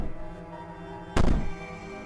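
A single heavy bang from the video game Slay the Princess, one loud thud that rings out briefly over a quiet, droning background.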